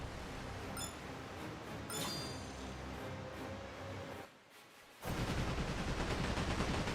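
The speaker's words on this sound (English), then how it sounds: "It's the cannon you need to actually shoot." Cannon fire in the video game Like a Dragon: Pirate Yakuza: a couple of sharp booming shots ring out over busy game noise, then a burst of rapid, dense firing takes over toward the end.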